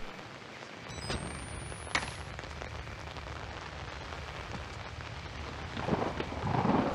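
Thunderstorm with rain in the Outlast video game: steady rain hiss with a sharp thunder crack near the start, then rumbling, and heavier rain and thunder swelling toward the end, without speech.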